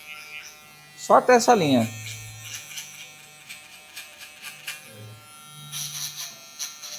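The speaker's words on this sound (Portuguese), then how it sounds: "Eu venho com a shave, ó, passando ao contrário, levando ela só até a linha da marcação da zero de acabamento." An electric shaver, run against the grain up to the guide line while finishing a low fade haircut, buzzes briefly and loudly up close, then carries on faintly under a man's speech.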